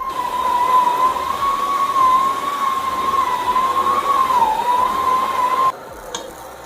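Stand mixer kneading brioche dough at medium speed, a steady motor whine with a slight wavering pitch running loud and continuous, then cutting off abruptly near the end, with no talk.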